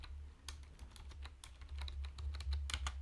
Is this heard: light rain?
no